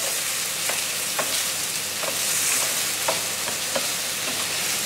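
Paella ingredients with crushed garlic frying in a pan at home: a loud, steady sizzle with a spatula scraping and stirring through it every half second or so, close up and without talk.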